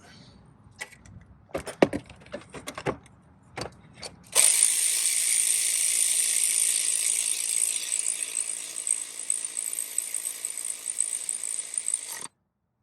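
A ratchet works on the idler pulley tensioner bolt of a Mercedes-Benz BluTec engine: a few seconds of scattered clicks and knocks, then a loud, steady rushing whir that runs for about eight seconds and cuts off sharply.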